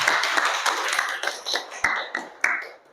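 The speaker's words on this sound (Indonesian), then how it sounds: "Beri dulu aplaus untuk semua guru" A small group of teachers gives brief, uneven applause: scattered hand claps and taps, fairly close, tapering into a few separate claps.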